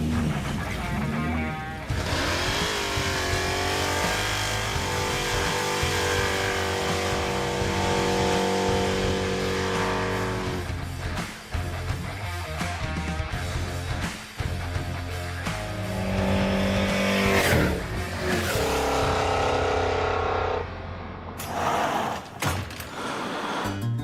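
Crusher, a Chevrolet Impala drag car, roaring down a drag strip with a loud, sustained engine howl and tire noise that fills the whole stretch without pause, cutting off near the end.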